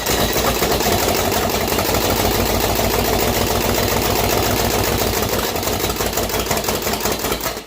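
A Chevy 250 engine with a broken connecting rod spins freely, a loud, steady, close mechanical roar with a dense rapid knocking rhythm that holds throughout before easing slightly at the end.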